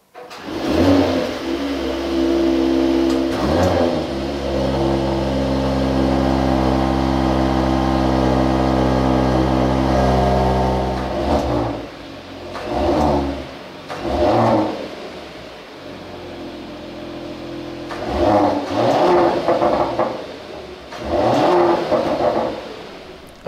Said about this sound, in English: let's listen to the sound of the GLE 53 Coupe